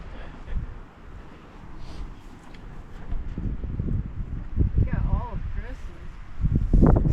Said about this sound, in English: Oh no, it's super windy.